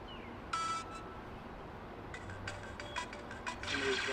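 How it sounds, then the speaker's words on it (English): A cell phone rings in a room, short electronic tone bursts repeating irregularly over a quiet background hum, moderately close and fairly faint. "Somebody's cell phone."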